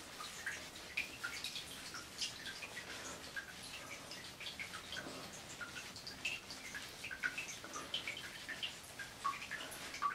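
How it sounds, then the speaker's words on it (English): A skincare sponge is rinsed and squeezed in a basin of water, giving soft irregular splashes and drips that recur steadily, close but quiet. "I'll kind of put the sponge back in some water and I'll kind of work it again"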